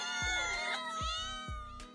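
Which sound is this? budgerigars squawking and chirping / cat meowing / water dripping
cat meowing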